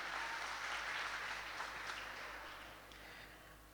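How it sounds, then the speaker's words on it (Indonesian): Audience applause breaks out at a live show-management opening event, a steady wash of clapping that fills the clip and slowly fades toward the end. "Boleh sekali lagi beri tepuk tangannya."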